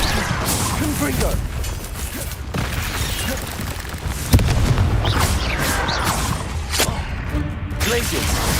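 A Confringo fire spell explodes in the video game Hogwarts Legacy, a sudden booming burst that rises out of dense, continuous battle effects and game noise.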